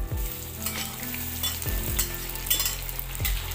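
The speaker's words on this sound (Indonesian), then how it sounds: "Setelah minyaknya panas, sekarang kita goreng tempenya terlebih dahulu." Tempeh frying in hot cooking oil in a home kitchen, a steady close sizzle and crackle with a few louder bursts of bubbling throughout, and no talking.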